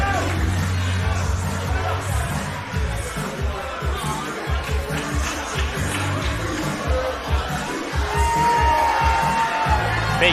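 A crowd at a world championship sumo event cheering for the wrestler Kimo, a dense continuous roar of voices and shouts with steady hubbub throughout.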